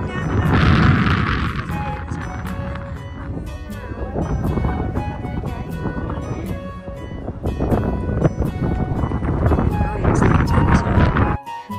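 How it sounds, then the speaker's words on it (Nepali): Strong wind gusts roar and buffet across an open hillside, loud and continuous, with heavy low rumbling bursts and a voice speaking over the blustery noise. "मुस्ताङको भन्दा पनि डेन्जर हावा चल्दो रहेछ कि लभली हिलमा"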